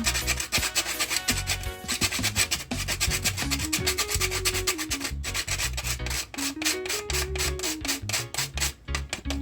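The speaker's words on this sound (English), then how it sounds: "Grate a little nutmeg inside, guys, just to give it some flavor." Whole nutmeg grated for a Jamaican papaya drink, a fast rhythmic scraping of many close, loud rasping strokes with short pauses, heard alone.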